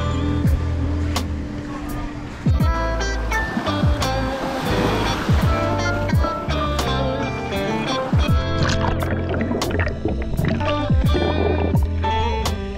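Ocean waves wash onto a beach at the Ritz on Grand Cayman, a close, continuous surf roar with some voices mixed in.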